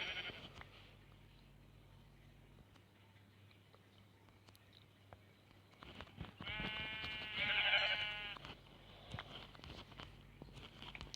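A Minecraft sheep bleats a few times at close range, with soft footsteps and light clicks around it in an otherwise quiet scene.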